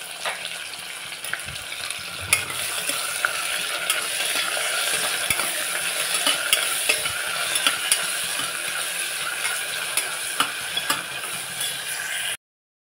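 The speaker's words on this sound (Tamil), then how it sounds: "இப்போ வெங்காயம் நல்லா வதங்கியாச்சு." Onions sautéing with a pinch of salt in a pan for baby jackfruit biryani, a steady close sizzle and crackle with occasional scrapes and clinks of a stirring spoon, no talking.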